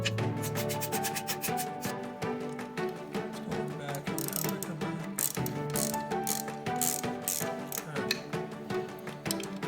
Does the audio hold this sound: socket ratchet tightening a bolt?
yes